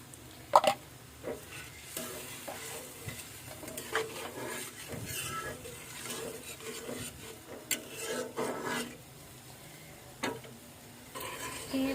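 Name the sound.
stirring and sautéing beef korma with yogurt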